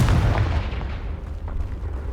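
Confringo blasting spell going off in the video game Hogwarts Legacy: a loud, booming explosion rumbles and fades over about two seconds, heavy in the low end with no voices.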